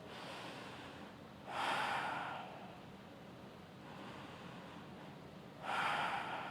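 Slow, deliberate breaths during a yoga bridge pose come as two clear, close airy exhales a few seconds apart, soft and unvoiced over a quiet background.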